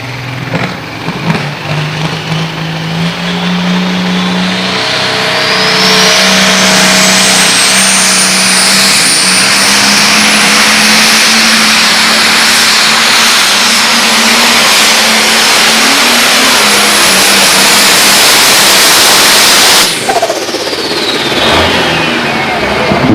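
A modified pulling tractor at a Page Valley Fair tractor pull roars close and loud, its engine climbing through a long rising rev held at full power for about fifteen seconds before cutting off sharply, with no talk over it.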